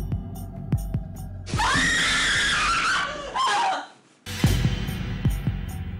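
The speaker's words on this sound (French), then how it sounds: "Des patients qui hurlent dans la nuit" A patient screaming in terror during the night while asleep, a loud sustained shrieking cry lasting about three seconds, set between short thumps and a low rumbling background.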